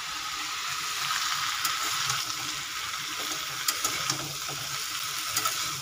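Sliced ridge gourd and potato fry in a pan with a steady, close hiss and sizzle, broken by occasional light clinks of stirring.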